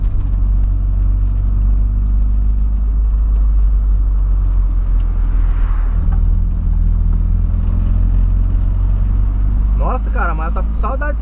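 A carbureted Volkswagen Voyage engine runs at a steady, loud idle, its low rumble continuous and unchanging, with a few brief high chirps near the end.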